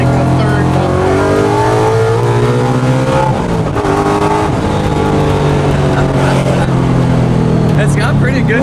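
A Ford Coyote V8 swapped into a widebody 1965 Mustang restomod with mufflers and resonators revs hard and loud nearby, its rising and falling engine roar steady throughout, with people talking over it.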